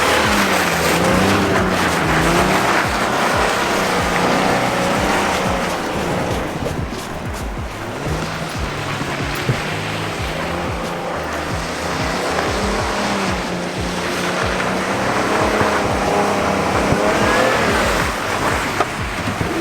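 A police car slides through a drift with its ABS fuse pulled, a loud sustained engine roar blended with rushing tire and road noise that holds steady throughout, with no voices.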